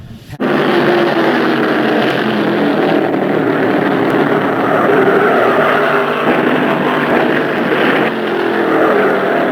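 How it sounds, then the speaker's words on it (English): Race car number 80 losing control on the turn-two banking, hitting the wall and then being struck by the number 8 Mercury: a loud, continuous engine roar that runs steadily throughout after an abrupt start. "car 80, driven by Phil Finney, lost it, careened up the bank to the wall, then got hit by Charlie Blanton in the Mercury number 8"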